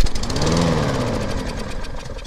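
Kohler XT-series engine on a Poulan 21-inch lawn mower, not running properly after carburetor cleaner, sputters loudly up close with a knocking chug, then dies away and cuts off.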